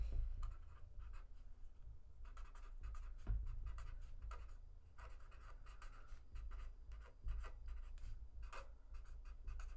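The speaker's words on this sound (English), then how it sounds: "I'm just going to write this down on a piece of paper" Pen or pencil writing on a sheet of paper, a soft continuous scratching with short strokes and brief pauses, close and quiet over a low background hum.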